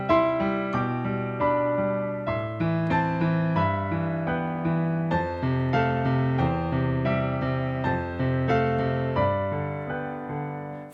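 Romantic-style solo piano rocking back and forth between pairs of notes in broken intervals over sustained bass chords, a steady flowing rhythm, close and clear with no talking.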